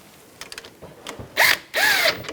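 A power tool tightening the brake caliper bolts on a 2004-2009 Toyota Prius: a few light clicks and taps, then two loud close bursts of whirring drill-like spinning.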